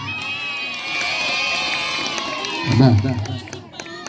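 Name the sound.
audience applause and cheering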